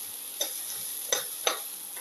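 Onion, garlic and shallot sauteing in a pan give a steady close sizzle, broken by three quick spatula scrapes, with no talking.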